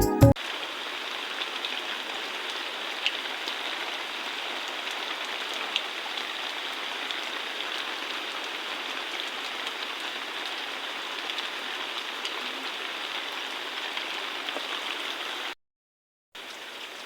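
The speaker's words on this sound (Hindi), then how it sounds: "देख सकते हैं बारिश झमाझम लगे जा रहा है" Heavy rain falls steadily on a hill homestay, a dense even hiss of drops on surfaces that holds without pause before cutting out briefly near the end.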